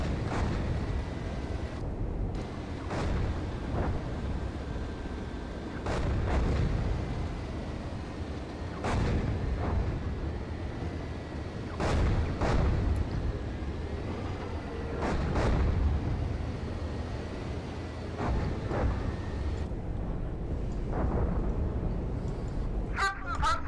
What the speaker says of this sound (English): Need to get out of the artillery because the leopards are allergic to artillery.